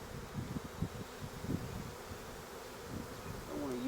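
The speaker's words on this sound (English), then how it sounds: "Get some of those bees out of the way there." A honeybee swarm hums steadily and close while a beekeeper works at the top lid of a hive, the buzzing dense and continuous with faint rustling and no talk.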